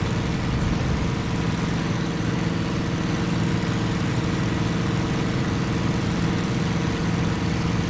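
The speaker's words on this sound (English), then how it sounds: "revs up to full, throttle through the gate, and we're into combat power" A WWII fighter plane engine at full combat power in the Cliffs of Dover flight game drones steadily and loudly throughout, a dense continuous roar with no talk over it.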